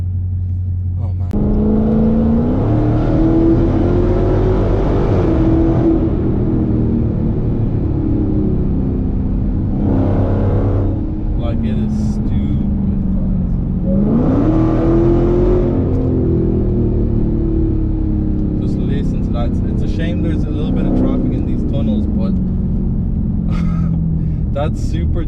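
A supercharged Dodge Hellcat with a 707-horsepower engine droning loudly from inside the car, rising and falling as it revs and accelerates, with supercharger whine, while people talk over it.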